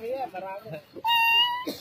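A voice imitates a cat's meow, a rising drawn-out mewing cry that follows brief speech from the same voice, close and clear.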